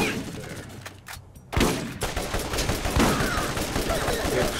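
Rapid gunfire and explosive rocket launcher blasts in the video game Borderlands, dense crackling bursts after a brief lull, loud and close throughout.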